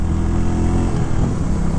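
A 2023 Royal Enfield Classic 350 motorcycle engine runs steadily while riding, a loud, close, even drone with a low throbbing undertone and no voices.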